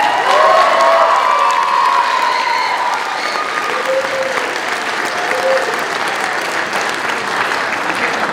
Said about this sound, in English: please give the sixth graders another round of applause